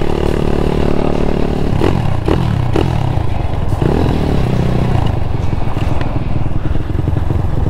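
A motorcycle engine runs loudly and close by, its pitch rising and falling as the throttle is worked, with some clattering mixed in.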